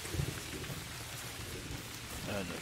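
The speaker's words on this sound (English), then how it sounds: "And the thunder rolls." Steady rain patters in theHunter: Call of the Wild, with faint low rumbling thunder rolling beneath the downpour throughout.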